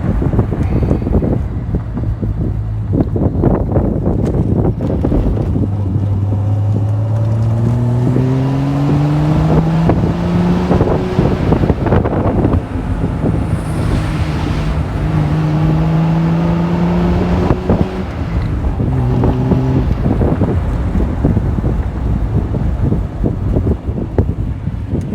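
A 1974 Triumph TR6 roadster drives along loud and close, its engine rising and falling through several gears with clear revs and shifts over steady wind rush, with no talking.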